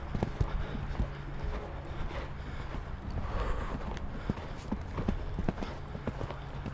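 A horse walks during a riding lesson, its hooves clip-clopping in a steady, fairly faint rhythm over light wind noise.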